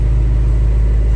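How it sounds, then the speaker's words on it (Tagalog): A steady, deep engine rumble from an exhaust, idling evenly and close by with no talking. "Kita mo naman yung tunog ng tambucho."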